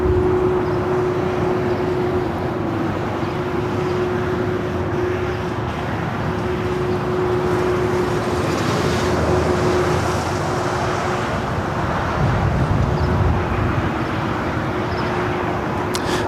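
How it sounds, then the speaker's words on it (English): A Japan Airlines jet arrived from Tokyo Narita rolls slowly along the taxiway at LAX toward the Tom Bradley terminal, a loud, unbroken engine roar with a steady hum running beneath it throughout. "Japan Airlines, this flight coming in from Tokyo Narita, slowly but surely making its way over to Tom Bradley."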